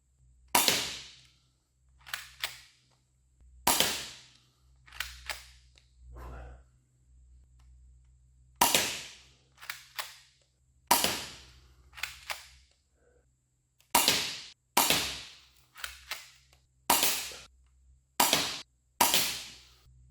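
An FNS airsoft pistol firing 0.20 g BBs at an indoor range from 7 metres: a series of sharp, crisp snapping shots, about a dozen spaced irregularly with short quiet gaps between, close and clear with no talk.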